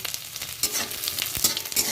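Chopped ginger fries in hot oil for a simple vegetarian mixed dal, giving a close, crackling sizzle broken by a few quick stirring scrapes.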